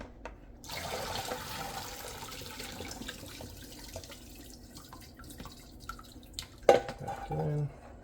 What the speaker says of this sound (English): We're gonna go for a drain on the noodles.